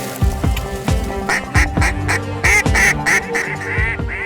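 Ducks quack loudly and repeatedly close by, a rapid series of raspy calls overlapping one another without pause.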